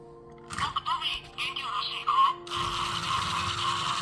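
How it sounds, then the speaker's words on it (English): Tomy Plarail Hector's Talking Action Toby toy train, fitted with a newly made replacement spring, runs its motor on plastic track: a close, steady mechanical whir with ratcheting gear clicks, irregular at first and then a continuous buzzing drone. "we got Hector's Talking Action Toby up on the track here, and we installed that manufactured spring in there, so let's give it a run"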